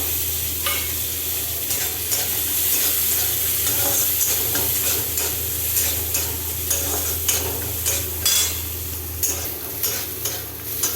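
Steady oily sizzle of cashews, raisins and peanuts frying in a wok, with repeated scraping stirs of a utensil against the pan throughout.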